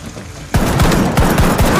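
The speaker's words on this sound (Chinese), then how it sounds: "一阵齐射，赶来的守卫全被报销。" A rapid volley of gunfire from several guns in a TV drama firefight erupts after a brief quiet lead-in, with loud overlapping shots and sharp repeated cracks continuing densely to the end.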